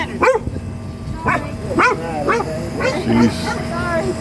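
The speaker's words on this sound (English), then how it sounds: "Barking at everyone." A noisy dog at a vanlife water fill-up barks in a quick series of sharp, close barks, with people talking around it.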